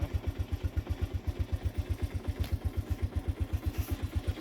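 A 1987 Honda TRX125 ATV idles after a cold start with the choke off, a steady, rapid single-cylinder putter with an even pulse and a light mechanical clatter, close by and alone.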